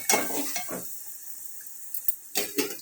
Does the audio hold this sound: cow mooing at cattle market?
no